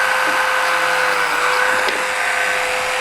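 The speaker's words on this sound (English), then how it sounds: "drill a couple of holes onto the axle" A drill whines steadily as it bores holes into the axle of a handmade automaton, a close, continuous high-pitched tone held alone for a few seconds.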